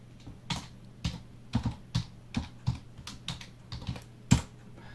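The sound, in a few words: typing on a computer keyboard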